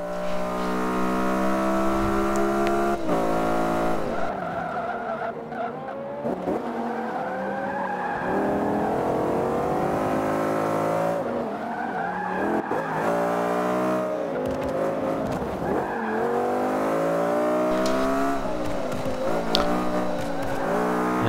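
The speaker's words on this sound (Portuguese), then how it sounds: "O trabalho aí de troca de marchas desse carro é muito eficiente, viu?" A race car at Indianapolis in Forza Motorsport 5 revs hard and steadily, its engine pitch climbing and dropping repeatedly as it shifts through the gears, with occasional tire squeal mixed in.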